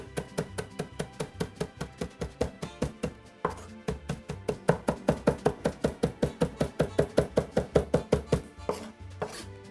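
A knife chops fresh parsley on a board in a guillotine motion, making a fast, even run of sharp close taps that pauses briefly near the middle and then continues steadily, with no voices.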